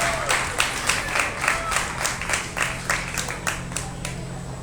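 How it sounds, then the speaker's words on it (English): An audience at a 4-H alpaca showmanship event applauds the winners. The steady clapping comes in pulsing waves and fades slightly toward the end, with no talk over it. "And yes, claps are appreciated."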